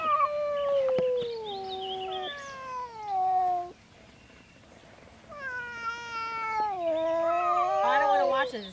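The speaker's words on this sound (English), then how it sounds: "A cat fight, do you?" Cats fight outdoors near a pond, trading long wavering yowls and howling caterwauls that rise and fall in pitch, close and loud, with a short lull midway before the screeching resumes more intensely.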